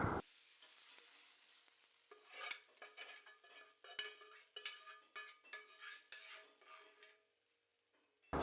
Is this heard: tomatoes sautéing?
yes